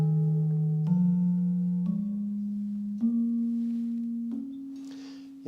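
Gamelan keyed metallophone struck in slendro tuning, five single notes rising step by step at a slow, even pace, each ringing clearly with a long, bright decay, close and alone.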